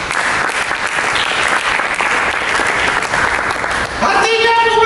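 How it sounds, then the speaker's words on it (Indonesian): A church congregation bursts into loud, sustained applause for Jesus, dense clapping filling the room throughout, with voices mixed in and a musical tone rising near the end. "Berikan tepuk tangan bagi Yesus."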